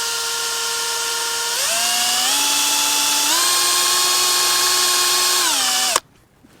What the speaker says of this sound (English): We're going to drill down right in here.